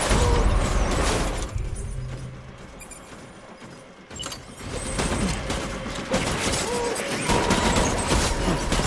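Sustained bursts of gunfire crackle and boom almost continuously, loud and close, with a brief lull in the middle before the volley resumes; metallic clatter mixes in and a voice is faintly present.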